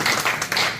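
Audience clapping at a drug-prevention education gathering, a brief burst of loud, close claps.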